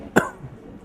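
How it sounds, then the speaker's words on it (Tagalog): One short, sharp cough, close and fairly loud, comes from a person inside a Starbucks coffee shop, followed by quiet room murmur. "Pwede umubo."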